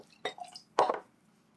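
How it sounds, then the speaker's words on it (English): Sherry poured from a bottle into a glass, heard as a couple of brief, quiet wet splashes and drips with near-silence in between. "I'm just going to pour some sherry."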